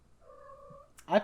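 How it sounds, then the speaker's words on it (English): A female cat in heat gives a drawn-out, steady meow lasting under a second, close and fairly loud. A brief human voice follows right after. "Hey, you guys want to talk to my cat? She's in heat right now, so she wants to talk."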